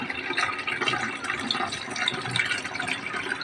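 Coconut milk is poured slowly through a strainer into a tin, making a continuous splashing, trickling liquid sound throughout, close and fairly loud with no speech.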